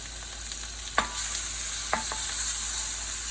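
Equal parts ginger and garlic paste fries in a pan under a steady close sizzle, with a few sharp scrapes and clicks as a utensil stirs it around.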